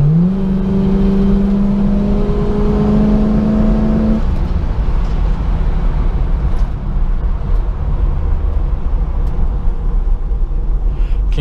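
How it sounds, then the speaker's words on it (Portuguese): A turbocharged 1975 Pontiac Firebird engine drones loudly with a rising whine that cuts off, then settles into a steady, rumbling idle with a faint whooshing hiss. "Ligar o turbo. O barulho dele é bonito, né?"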